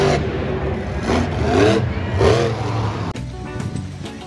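A monster car revs in several rising and falling bursts, fairly close and moderately loud, followed by a quieter, rougher engine sound.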